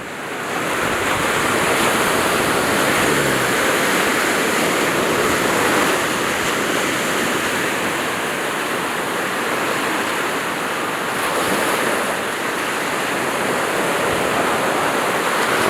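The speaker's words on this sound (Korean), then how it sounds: "이렇게 파도가 만들어지고 있다고 하는데" Steady roar of East Sea surf breaking continuously on Hwajinpo Beach in Goseong, Gangwon Province, loud and dense with no voices.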